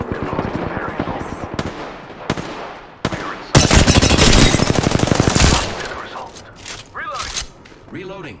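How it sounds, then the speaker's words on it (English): Automatic weapon fire in the Apex Legends battle royale game, a loud dense burst of rapid shots in the middle with scattered single shots and game sounds around it. "Shots fired. And they're hitting me."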